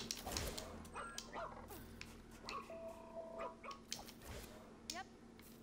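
A robot dog in the video game ReCore gives a few short yips and barks over game background hum and effects, with a player talking quietly underneath.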